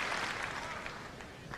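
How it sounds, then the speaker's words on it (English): Wimbledon crowd at a 2000 quarterfinal tennis match applauding both players, a steady dense wash of clapping that holds at an even level and fades slightly toward the end. "the crowd giving both players a real nice round of applause"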